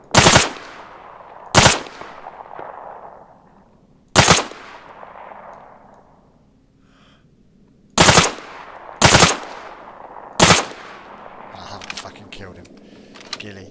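Gunfire in Arma 3, in a SPAR-16 King of the Hill match: six sharp, loud shots or short bursts at uneven intervals, each trailing off into a fading echo, with quieter game ambience between them.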